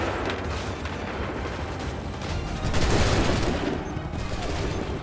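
Dense, continuous rolling gunfire and explosions from a battlefield in the video game Assassin's Creed III, loud and sustained with rising intensity, as massed musket volleys crackle and boom across the field.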